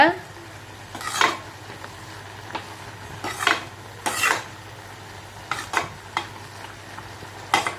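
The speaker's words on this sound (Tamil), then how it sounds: "கலந்து விடுங்க" Pearl millet vermicelli stirred in a pan, with a utensil scraping and clinking against the metal in a few separate bursts over a faint steady background hum.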